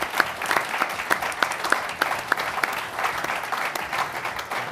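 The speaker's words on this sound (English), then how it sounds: "Let's give them all a round of applause." A convention audience gives a round of applause for honored guests at a New Jersey Black Issues Convention, with many hands clapping in a lively, crisp patter and some individual sharp claps standing out.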